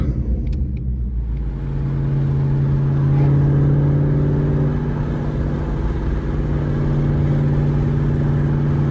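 Ford Mustang PP2 with an upgraded exhaust revving in a steady, loud drone, heard close from inside the car, swelling slightly midway and holding a strong deep tone throughout.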